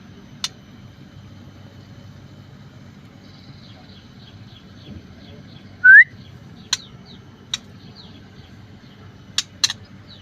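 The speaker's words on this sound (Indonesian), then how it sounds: "Ini burung murai yang kemarin saya beli betina ya" A female white-rumped shama in mid-moult gives scattered short whistles and sharp chip notes, one louder rising whistle standing out, over a quiet low background hum.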